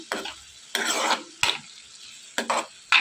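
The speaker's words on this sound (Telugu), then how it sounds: "ఇదంతా కూడా బాగా ఫ్రై అయిపోయేలాగా వేయించుకోవాలి" Amaranth leaves (thotakura) frying in a pan, with several bursts of stirring and scraping over a low sizzle, close and fairly loud, no voices.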